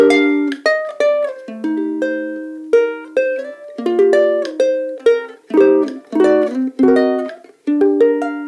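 Clear, close guitar strumming a short chord progression, a series of ringing chords with distinct attacks and sustained notes, no voices.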